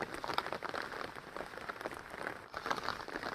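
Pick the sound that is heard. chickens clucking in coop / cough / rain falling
rain falling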